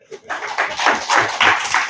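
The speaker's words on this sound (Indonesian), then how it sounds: "Tepuk tangan dulu." Church congregation at a Christmas sermon in Toraja, Indonesia, clapping in a burst of hand claps lasting under two seconds, fairly close and uneven, with a rhythmic patter that starts abruptly after a short pause.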